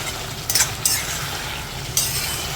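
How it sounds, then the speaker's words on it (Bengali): Potatoes and pointed gourd stirred through spices in a hot pan while frying, with a few sharp scraping clinks from the utensil over a steady low sizzle. "এবারে দেবো আমি এই আলু পটল যেটা ভিজে রেখেছিলাম সেটা আমি ঢেলে দেবো এর মধ্যে"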